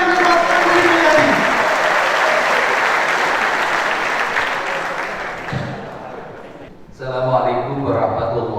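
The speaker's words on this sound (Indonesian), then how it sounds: "Sekali lagi tepuk tangan untuk Kang Dedi Mulyadi." A large audience in a packed police academy hall applauds Kang Dedi Mulyadi, steady loud clapping that fades after several seconds, with a voice speaking near the end.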